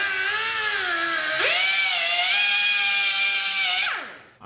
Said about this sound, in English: we're just going to trim the mounts a tiny bit with a cutoff wheel